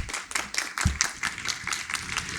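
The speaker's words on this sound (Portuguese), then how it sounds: "Pode aplaudir, gente." Audience applause at a risk management and insurance conference panel on captive programs, a brisk, steady patter of many hands clapping in a hall, moderately loud, continuing throughout with no one speaking.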